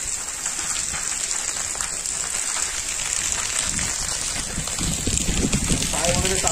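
Rain falling on the forested path by the Shri Bhairavnath temple in Chinchghar village near Dapoli and Khed, a continuous soft hiss of drops that grows slightly denser toward the end, with faint voices beneath it.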